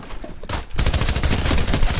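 A golden SMG machine gun firing in Fortnite, a short burst of rapid, loud automatic shots after a brief lead-in of quieter clatter.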